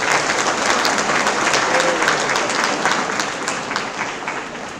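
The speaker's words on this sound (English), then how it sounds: "Let's give them a round of applause." An audience at an academic building inauguration applauds steadily, a dense wash of clapping that holds level and then tapers slightly toward the end.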